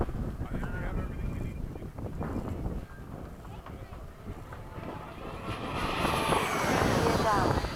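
An FMS 70mm F/A-18 RC jet makes a low pass for a touch and go. Its ducted-fan roar is broad, rushing and steady, rises louder toward the end, and is mixed with wind buffeting on the microphone and occasional voices.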